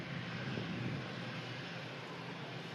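Lufthansa Airbus A319 bound for Frankfurt departing, a steady, loud broadband jet roar with a deep low rumble that holds constant throughout, no talking.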